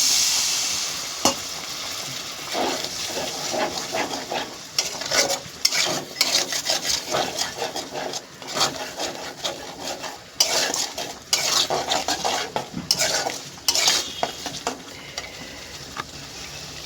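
Fish with four prawns cook in a pan with a little water, with irregular metallic scraping and clinking of a spoon stirring against the pan over a soft sizzle, close and busy, with no talking.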